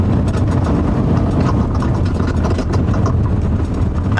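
Heavy delivery truck engine idling and creeping in slow stop-and-go traffic, a steady loud low rumble that stays constant throughout with no talk over it.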